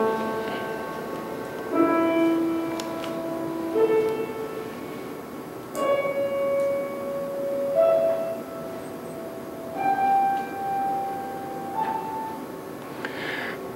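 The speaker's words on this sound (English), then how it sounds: "the harmonic series, the overtones of that A" Harmonic series overtones of a low A sounding as a sequence of pure, steady tones that step upward with gaps between them, quiet and alone over a faint hiss.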